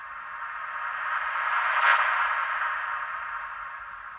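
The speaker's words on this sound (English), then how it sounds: "I use the first transition sound to revert it to put it in the front." A reversed transition sound effect for a lo-fi track, a filtered airy whoosh that swells gradually to a peak near the middle and then tapers off, smooth and hissy with no voice over it.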